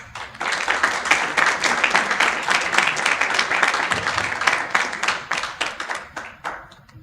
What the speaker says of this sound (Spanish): lo recibimos a él también con un fuerte aplauso